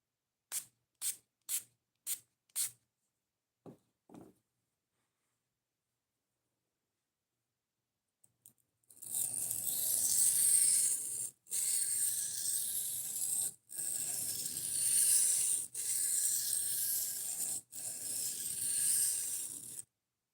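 A knife blade is drawn across a sharpening stone in long, even strokes while a burr is raised, a steady close gritty rasping in several passes with short gaps, preceded by a few sharp isolated clicks and then silence.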